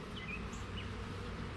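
Honey bees buzz in an opened hive holding two queens, a soft, steady drone with a few higher passing whines from bees flying close by.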